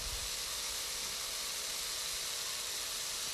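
Carrots steaming in a steam basket on a stovetop give a steady, quiet hiss of steam that holds unchanged throughout, with no voices.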